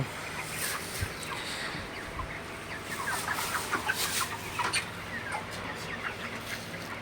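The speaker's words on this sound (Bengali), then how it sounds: "মুরগিগুলো খুবই সুস্থ আছে ভালো আছে" Broiler chickens and roosters cluck and call repeatedly on a farm, several birds close by, with busier clucking in the middle stretch.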